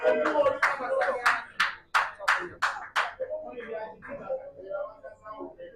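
Fans of a snooker team clap and cheer at a Holy Cup Championships match, a burst of sharp, rapid handclaps over a crowd, fading into lighter applause and voices mixed with general chatter.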